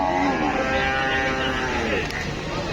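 Dairy-breed cattle moo amid the busy din of the Deohata cattle market in Mirzapur upazila, with a dense, constant crowd murmur and people talking nearby.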